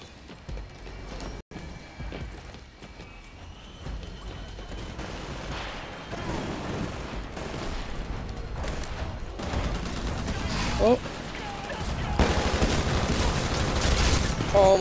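Gunfire and explosive combat noise from the video game Titanfall, a dense, continuous barrage of shots and impacts that builds and grows louder toward the end, with no voices over it.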